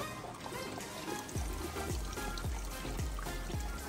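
Water flowing through a DIY vertical hydroponic garden tower, a continuous trickling stream with a rhythmic series of gurgling drips and glugs repeating about every half second.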